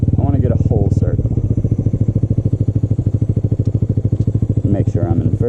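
A Honda Grom motorcycle engine putters with a rapid, even low thump throughout while riding in first gear, close and loud, with a rider talking over it.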